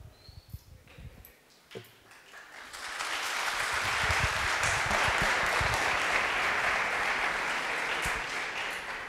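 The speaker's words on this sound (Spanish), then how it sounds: "Que solo aplaude a una de las personas." An audience claps, starting with a few scattered claps before swelling into sustained, dense applause that holds steady for several seconds at a public debate on taxation.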